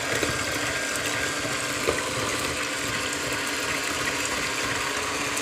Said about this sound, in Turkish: Önce yavaşta çırpmaya başlıyoruz.